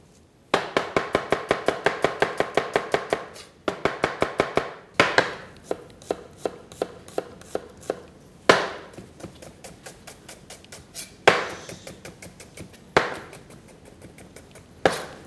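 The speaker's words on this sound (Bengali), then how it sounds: "অনিয়নটা হচ্ছে ফাইনলি চপ" Knife finely chopping onion on a cutting board in a home kitchen, with rapid, crisp, rhythmic taps in bursts and pauses between runs, close and clear, no talking.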